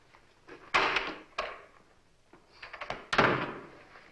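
A door shuts with a solid thunk, followed by a second louder closing slam a few seconds later, both close and clear with no talk over them.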